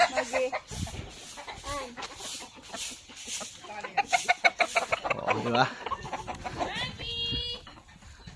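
Chickens clucking at sunset in front of a house, repeated short clucks and squawks near the listener, mixed with brief casual talk.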